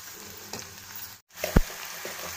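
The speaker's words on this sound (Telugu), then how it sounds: "ఆనియన్స్ వేసుకున్న తర్వాత ఈ విధంగా ఫ్రై చేసుకోవాలి. బ్రౌన్ కలర్ వచ్చేదాకా దీన్ని ఫ్రై చేసుకోవాలి." Chopped onions frying in a pan until brown: a steady, close sizzle with stirring scrapes, a brief silent gap, then a sharp clatter.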